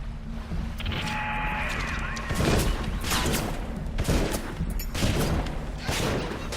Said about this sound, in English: Rosies do a lot of damage with their rivet guns